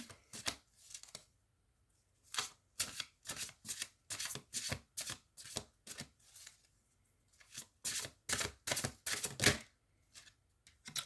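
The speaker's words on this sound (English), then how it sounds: "I'm gonna pull a Soul Helper card again" Tarot cards are shuffled in quick riffled bursts, several short crisp flurries separated by brief pauses and heard up close with no talking.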